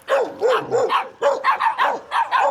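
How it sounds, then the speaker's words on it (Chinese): Several dogs guard a remote mountaintop home in deep Chinese mountains, near a goat pen. They bark in rapid, repeated bursts, loud and close, with no talking. "狗这么叫都没人"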